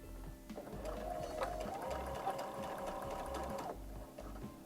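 Sewing machine stitching a fabric pocket, a quiet even mechanical whir of rapid stitches running for about three seconds, starting and stopping cleanly against a low room hum.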